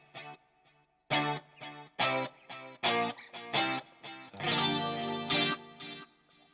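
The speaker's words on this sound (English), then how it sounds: "I just have the chorus on, the reverb is always on, and I have a short delay on" Clean electric guitar through a Line 6 Helix with a Synergy Syn-1 plays separate strummed chords and picked notes, each shimmering with chorus and trailing off in reverb and short delay repeats.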